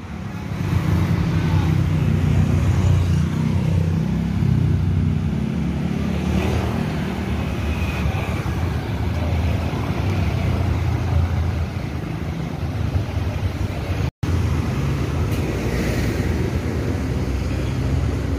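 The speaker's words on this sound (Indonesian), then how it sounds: "inilah bos Trontonnya bosku. Dengan Volvo M450 HP." A Volvo M450 HP tronton truck at a busy bus depot in Indonesia, a deep, steady engine rumble close by with a constant low drone and faint background activity, lasting throughout.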